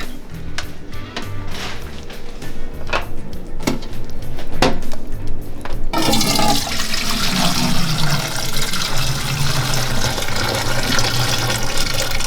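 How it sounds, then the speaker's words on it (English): Juice from pulled pork in a crock pot is poured out, first some clinks and knocks, then a steady loud splashing stream of liquid running down into a drain. "So now that we poured out the juice"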